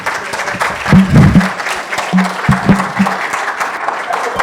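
A conference audience applauds after a presentation, a steady round of clapping with a voice speaking over it partway through.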